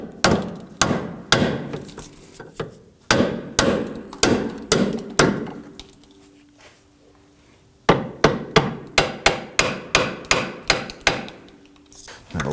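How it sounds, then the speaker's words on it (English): A hammer taps a rear upper control arm bushing into place on a 2005-2009 Subaru Legacy, sharp close strikes in quick bursts of several blows, separated by short pauses. "and then use my hammer and tap this in."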